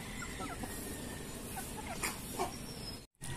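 Broiler chickens on a poultry farm cluck and chirp in short scattered calls over a steady background noise, fairly close, with no voices.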